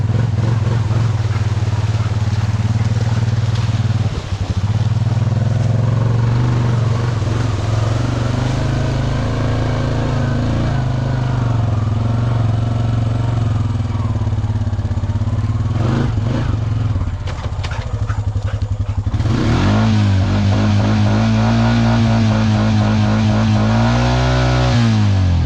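A 420 vehicle engine churns steadily and loudly as it rides out of clay in the rain, a low droning hum that revs up sharply near the end, with a voice talking over it.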